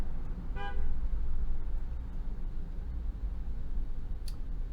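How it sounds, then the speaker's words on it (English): Outdoor street traffic carries on as a steady low rumble of passing cars, broken early by one short car-horn toot and later by a faint click, with no one speaking. "Because you can hear all the cars and stuff outside."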